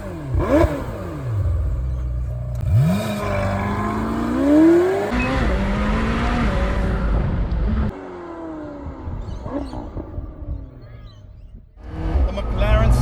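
A McLaren 720S Spider supercar with the roof down revs and accelerates hard, engine sweeping up through gears with rising and falling roars, then settles to a lower cruise before another surge near the end; talk is heard over it.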